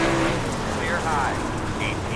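Dirt late model race car engines roar steadily at Oswego Speedway in the iRacing sim, a dense continuous drone with faint tire and surface noise, while a voice talks over it.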